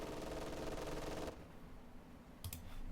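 MG42 machine gun in Company of Heroes 2 fires a dense, rapid rattling burst for over a second, then goes quiet amid battlefield ambience before a brief second crack of fire.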